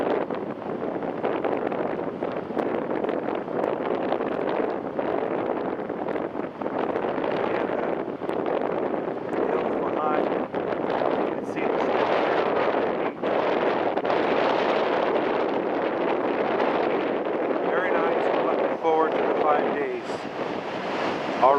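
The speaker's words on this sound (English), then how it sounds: "Already feel invigorated with the ocean breeze blowing." Steady ocean breeze on the Oregon coast, a continuous broadband rush of wind buffeting the microphone with surf-like roar underneath, loud and unbroken throughout.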